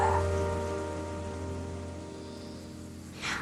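Steady rain falls in a continuous soft hiss beneath sustained musical tones, with a brief brighter swell at the end.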